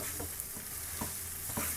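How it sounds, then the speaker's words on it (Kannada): Rice is mixed into crispy fried garlic in a hot pan for lazy pepper rice, a soft, steady sizzle with rhythmic scraping strokes of the spoon about every half second. "ರೈಸ್ ಮಿಕ್ಸ್ ಮಾಡ್ಕೊಂಬಿಡ್ತೀನಿ ತಾಳಿ."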